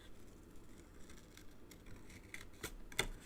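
Scissors cutting card for a lattice pansy paper craft, quiet and close, with a few soft snips and one or two sharper cuts near the end.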